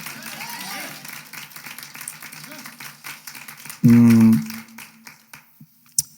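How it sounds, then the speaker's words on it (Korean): A congregation at a Korean Sunday morning church service claps in scattered, uneven bursts under voices, broken midway by a short, loud tonal blast before the clapping thins out. "먼저 우리 하나님께 박수로 영광 돌리겠습니다."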